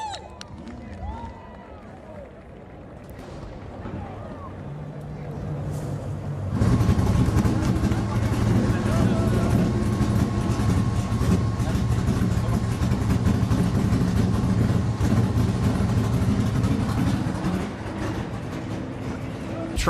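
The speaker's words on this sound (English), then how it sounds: "Pilote, démarrez les moteurs. Drivers, start the engine." NASCAR Canada Series stock cars at the Grand Prix de Trois-Rivières fire up together, a dense engine roar and growl jumping in after a quieter stretch of crowd murmur and then holding loud and steady to the end.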